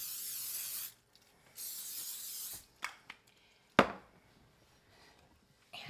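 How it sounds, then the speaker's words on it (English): Two bursts of hissing cooking spray, about a second each, close by, coating a baking dish, followed by a few light knocks and clatters of the dish being handled. "It's perfectly okay to butter the dish, but I'm just going to spray it."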